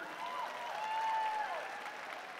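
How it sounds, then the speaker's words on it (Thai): Quiet, distant audience applause at an Amway event in Thailand, an even wash of clapping that swells slightly mid-way and then tapers. "ปรบมือกับแอมเวย์หน่อยดีไหม"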